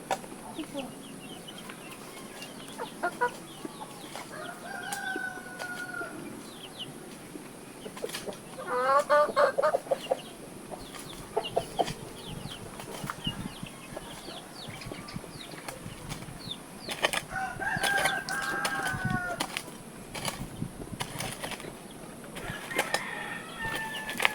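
Chickens being fed coconut worms cluck and squawk in scattered bursts, with a few louder calls and fainter background chirps outdoors.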